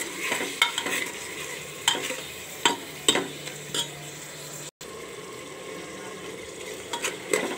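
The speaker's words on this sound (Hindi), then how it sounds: "और टमाटर थोड़े गलने तक पका लेंगे" Tomatoes cook down in a pan with a soft steady sizzle while a spoon scrapes and knocks against the pan in irregular strokes, close up, with a brief dropout near the middle and no talk.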